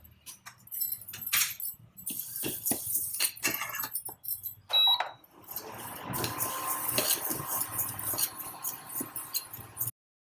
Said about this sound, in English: We are going to dry roast this till it becomes a reddish color.